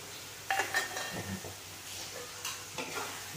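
Tomatoes and onions frying in a pan for prawn curry give a soft, steady sizzle, with a few close stirring scrapes and light clinks from the pan.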